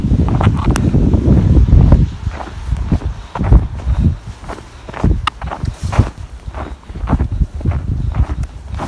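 Gusting wind buffets the microphone with a low rumble as someone walks outdoors on a February morning on the way home from school. Footsteps tap irregularly beneath it, and the wind is heaviest at the start before easing into steadier gusts.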